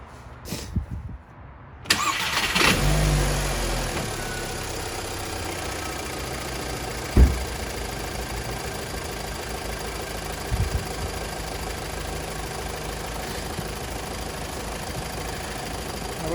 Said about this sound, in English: We can still hear the ticking.